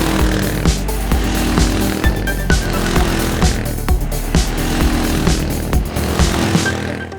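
A Kawasaki KLR650 motorcycle engine is worked hard while riding on winding roads, producing a loud, close, continuous single-cylinder drone with rhythmic pulsing and regular sharp ticks, and no talk.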